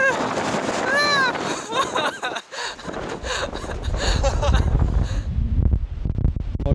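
Strong wind at Cape Point buffeting the microphone as a loud continuous roar and rumble, with people's voices heard at the start and through the gusts.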